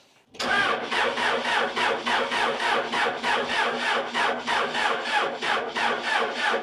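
Starter cranking the diesel engine of a neglected Case 580 Super L backhoe, a loud, close, rhythmic churning that begins abruptly and pulses evenly for several seconds without the engine catching.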